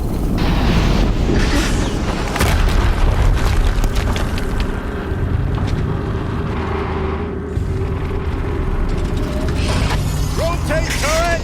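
Explosions from the game Horizon Zero Dawn sound as loud, rumbling booms over dense mechanical clatter and crackling fire, keeping a constant roar with a brief dip near the end.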